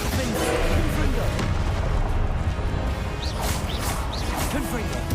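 Confringo fire-blast spells cast during a dragon fight in Hogwarts Legacy, heard as repeated booming bursts over a constant dense rumble of battle noise.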